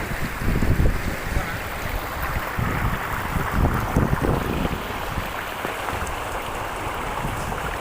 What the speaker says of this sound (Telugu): అది గాలి అనేది ఎక్కువగా వస్తుంది మనం నుంచోలేమన్నమాట